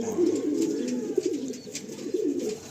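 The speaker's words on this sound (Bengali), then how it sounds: "এগুলো সব ঘরের পায়রা, তাই তো?" Domestic tournament racing pigeons coo close by, a few soft, low, rolling coos in repeated phrases, fairly quiet.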